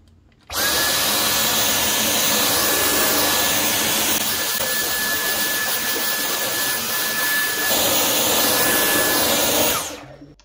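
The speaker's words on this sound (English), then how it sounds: "anyone who has a handheld Dyson, I am sure you know this sound" A Dyson handheld vacuum cleaner running used for vacuuming carpet, a loud, steady high-pitched whine with a constant tone that starts abruptly, holds for about nine seconds, then cuts off, close and alone.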